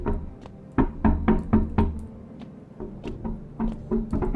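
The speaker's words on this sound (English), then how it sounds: "All the windows have knocking." Knocking on windows in the horror game No, I'm not Human: sharp, hollow raps in quick clusters of three to four, loud and close, pausing briefly before another series begins.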